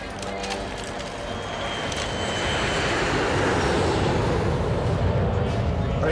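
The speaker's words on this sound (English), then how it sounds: "Plane is touching down, sir." An airplane touches down on landing, with a broad, steady roar of engines and rushing noise that swells and holds loud throughout; no speech is heard.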